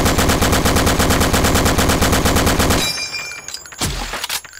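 A rapid, loud burst of automatic M16 fire from Army Men 3D, heard in a DOOM mod video game, hammers out evenly spaced shots for nearly three seconds before stopping, followed by brief clatter and quieter noises.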